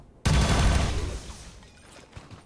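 Weapon shot in XCOM 2, a video game: a single sudden loud blast that rings out and decays over about a second into quieter rumbling, close and alone.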